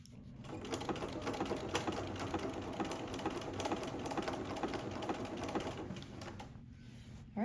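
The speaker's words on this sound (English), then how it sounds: "Now I'm going to sew again, hit a couple back stitches" A sewing machine stitches binding onto a minky quilt in one steady, close, continuous mechanical whir of rapid needle strokes that stops abruptly at the end.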